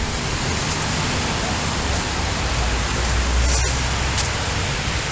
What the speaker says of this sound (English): It's nice to walk on a rainy spring day.